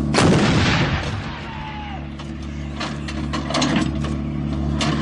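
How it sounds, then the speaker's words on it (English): A Bofors field gun's automatic loading system clanks and ratchets in rapid mechanical bursts, with heavy booms of rounds firing and loud, close machinery noise running throughout. "Watch the rapid functioning of the automatic loading system. The gun will now fire 3 rounds in area diamond."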